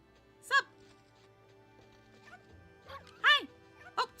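Short dog barks and yips from the Okami video game, a few sharp, fairly close calls spaced irregularly over a low background hum, with a quiet voice underneath.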